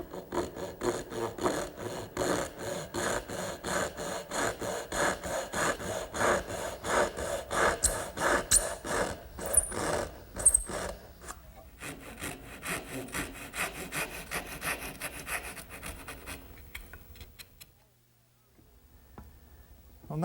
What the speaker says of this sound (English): I need to make a dovetail cut on each end. And I think there's no easier way than to use the regular dovetailing saw.